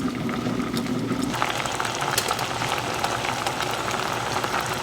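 Red plums cook in a covered pot on the stove, a steady dense bubbling and hiss of boiling liquid throughout, with a faint low hum fading early on.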